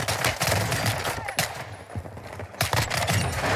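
Rapid automatic gunfire in the video game Warzone 2, bursts of close, loud shots in quick rattling runs, broken by a short lull before another burst.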